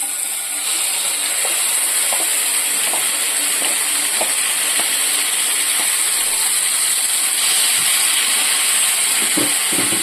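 Grated bottle gourd sizzles steadily in ghee on a low flame, a constant close hiss with occasional soft stirring taps throughout.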